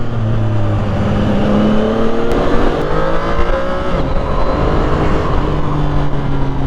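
A CF Moto 675SR inline-three sportsbike engine revs loudly and continuously up close, with rising and falling throttle pitch sweeps and quick-shift gear changes while riding, with no talking.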